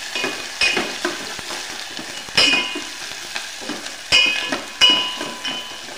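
Chopped onion, garlic and coriander fry in hot oil for a matki bhaji, a steady close sizzle broken by several sharp scrapes and clinks of stirring.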